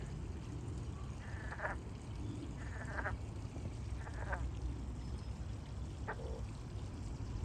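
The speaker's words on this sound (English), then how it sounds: "I've got a frog back here. It's croaking at me." A northern green frog calls several times in short, twangy bursts spaced a second or so apart over a steady background hiss outdoors by a koi pond.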